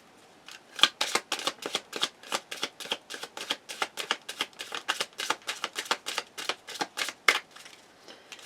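Oracle cards are shuffled close by in a rapid, rhythmic run of papery flicks and slaps, steady for several seconds with no talking.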